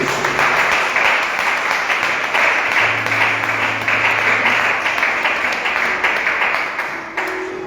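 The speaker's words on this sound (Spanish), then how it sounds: "¿Cuánto dan un fuerte aplauso a nuestro Dios?" Church congregation giving a long, dense round of applause, loud and sustained for several seconds before easing off near the end.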